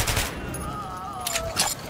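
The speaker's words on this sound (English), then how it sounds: "I just fucking ripped those shots" A quick cluster of sharp gunshots in Metro Last Light Redux, a couple of close bursts with faint voices and game sounds beneath.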